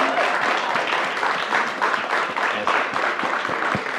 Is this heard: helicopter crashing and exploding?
no